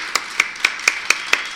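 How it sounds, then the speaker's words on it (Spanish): Seven crisp claps land at a steady, quick rhythm, close and clear, with no voices, during an online rock music show. "¿Los aplaudimos, te parece?"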